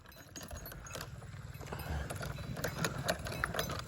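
A mare's hooves clop faintly in a rural farmyard, with soft irregular steps and light clinking under low background noise.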